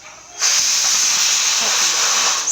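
A pressure cooker cooking dal for katte pongali lets off a loud, steady hiss of steam that bursts in abruptly and holds for about two seconds, close and continuous.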